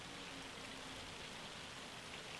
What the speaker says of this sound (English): That looks like hail bouncing off the ground there. Big old raindrops.